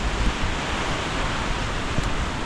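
Ocean waves surge loudly near the shore, a continuous broadband roar with gusty wind noise on the microphone.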